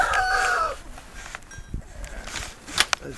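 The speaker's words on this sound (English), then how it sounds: "the chickens are very sociable and they're looking for something to do" Chickens cluck and murmur softly in the open, with a few sharper calls rising near the end over faint outdoor background.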